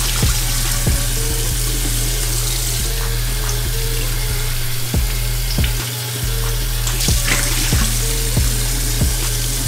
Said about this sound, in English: Rinse exfoliant products off with lukewarm water and pat face dry